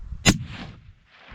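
A single sharp rifle shot cracks out during a wilderness hunt, loud and close, followed by a rolling echo that fades across open terrain.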